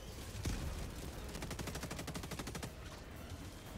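A Gatling gun in a video game fires a fast, steady rattling burst that holds for a couple of seconds after an initial hit, heard faintly and at a distance with no talking.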